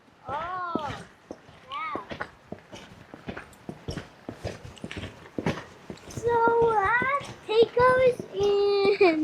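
Horse hooves clop at a steady walking pace on a mountain trail in the Pecos Wilderness, close by, with adults and someone talking over them throughout.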